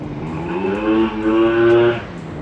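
A two-stroke Indonesian-made automatic scooter engine revs up with a rising, buzzing whine, holding a steady high pitch before dropping away, close and fairly loud with no voices.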